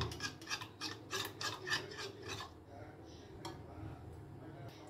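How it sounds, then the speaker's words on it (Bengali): Spoon scraping and stirring batter with lemon juice in a bowl for chilli gobi, a quick rhythmic rasping run of strokes that slows and fades to a few faint taps. "লেবুর রসটা দিয়েও আমি ভালো করে এটাকে মিশিয়ে নেব।"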